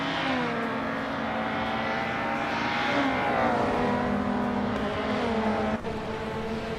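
A KTM Crossbow GT4 race car in a racing video game holds a steady, loud engine drone with smooth gear-like pitch shifts, the engine note rising and falling continuously without any talk.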